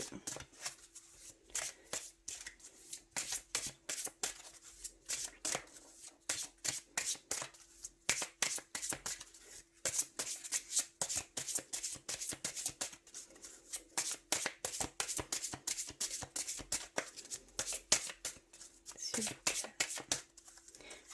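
A deck of love oracle cards is shuffled by hand over and over, giving rapid papery riffles and flicks in quick bursts with short pauses, close and fairly soft, with a faint steady hum underneath.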